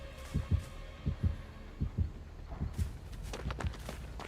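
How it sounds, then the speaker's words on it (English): Heartbeat warning of an approaching killer in the mobile horror game Dead by Daylight Mobile: deep, thumping double beats pulse steadily and grow quicker and closer toward the end, with no talk. "The heartbeat's telling me he's coming."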